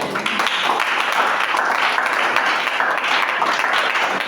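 A church congregation at a worship service breaks into steady, enthusiastic applause, a dense wash of clapping that holds through without speech.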